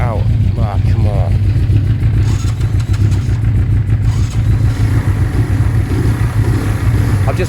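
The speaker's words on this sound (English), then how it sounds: "I'm just warming up these two bikes." Two motorcycles, a Suzuki Bandit 400cc and a Benelli, warm up nearby, with a loud, steady low idle throbbing throughout and a brief voice at the start.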